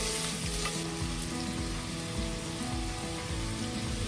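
Green peas with ginger garlic paste fry in a pan, giving a dense, continuous close-up sizzle with occasional stirring scrapes. No one speaks.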